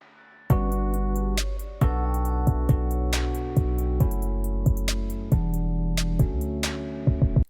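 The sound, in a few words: music beat with kalimba, claps, filtered hi-hat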